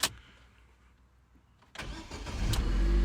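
A car engine cranks briefly and catches on the first start after a reset, then settles into a steady, loud running note close by, following a short burst of cranking at the very beginning.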